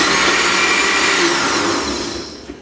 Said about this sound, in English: I'm gonna let that puree until it's nice and smooth.